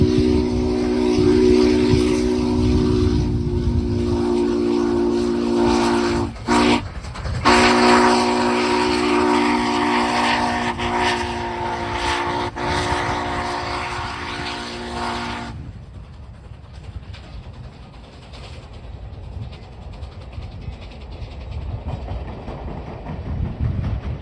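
US Sugar #148, a steam locomotive, crosses a bridge on the Florida East Coast Railway, sounding a long, loud whistle in several blasts over rumbling wheels. The whistle stops partway through, and the rolling train continues with a softer, steady rumble.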